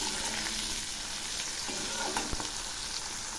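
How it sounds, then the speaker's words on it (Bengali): Cut potatoes and five slit green chillies frying in oil in a pan for a Bengali cabbage dish, giving a steady close sizzle with a few soft stirring knocks. "এই আলুগুলো খুব ভালো করে ভেজে নেব"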